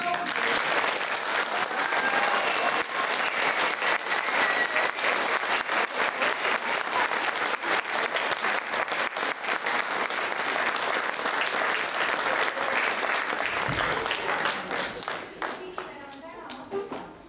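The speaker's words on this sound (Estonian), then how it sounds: "Suur aplaus!" Audience applause for children at a 2012 spring concert, a dense sustained clapping that fills the room, loud and steady before tapering off near the end.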